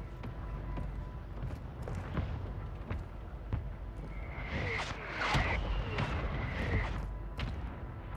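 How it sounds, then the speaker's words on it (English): Mortar strike explosions in the battle royale game Call of Duty Warzone 2.0, a series of distant booming impacts with sharp cracks and whistling debris, building to a louder cluster midway, with faint radio-style voices underneath. "Mortar strike inbound now."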